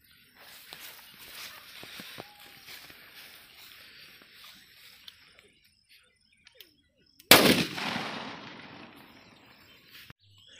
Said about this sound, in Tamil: நெக்ஸ்ட் வந்து பார்த்தீங்கன்னா பேரல் வெடி